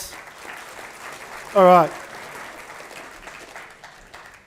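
An audience at a talk on AI claps for a volunteer, a steady spread of applause that continues throughout, with someone briefly speaking loudly over it partway through.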